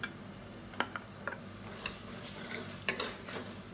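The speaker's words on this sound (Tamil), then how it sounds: "இப்போ அதை நல்லா வதக்கி விட்டுக்கலாம்." Onions and tomatoes sauté in oil in a pan for biryani, a soft, continuous sizzle broken by scattered light clicks and scrapes of a spoon stirring, close and fairly quiet.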